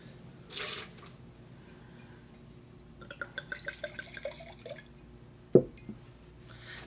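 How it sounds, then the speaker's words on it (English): Water splashes briefly into a wine glass being rinsed, followed by a short run of small drips and trickles, then one sharp clink of glass, all quiet and close with no talking. "Let's give it a little bit of a rinse."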